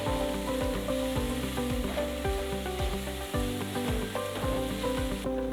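Onion and garlic frying in a pan, cooked down as a base for a vegetarian bruschetta topping, give a steady sizzle that runs without a break and with no voices.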